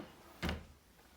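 A single short door thud or click, likely a cupboard door opening onto a playing card collection, stands alone against quiet room tone.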